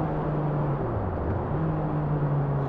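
A 2024 Kawasaki Ninja 636 motorcycle drones inside a tunnel, its engine note holding steady, dipping in pitch midway, then climbing again, loud and close with a reverberant wash.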